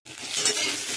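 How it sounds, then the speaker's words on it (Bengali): Potato pieces and vegetable stems sizzle in a hot pan as they are stirred, a brief close burst of crackling and scraping with no voices. "আলু আর ডাঁটাগুলো একটু ভাজা হয়ে গেছে।"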